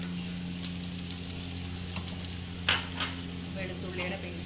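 Garlic-ginger paste sautéing in a pan for chicken biryani gives a steady, close sizzle, with a few light clinks of a utensil stirring against the pan.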